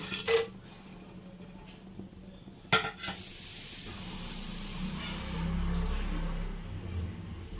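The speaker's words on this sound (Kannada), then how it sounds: "ಎಣ್ಣೆ ಕಾದಿದೆ ಇವಾಗ ಸ್ಪೈಸಸ್ ಎಲ್ಲ ಹಾಕ್ಕೊತೀನಿ" Whole spices dropped into hot oil with a little ghee for a rustic chicken biryani, giving a close clatter followed by a steady sizzling hiss that swells toward the end.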